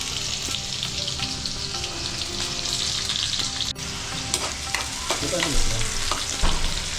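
Paneer pieces sizzle and crackle as they fry in a pan until crisp, a busy close hiss with small pops and an occasional stir or scrape, with no voices.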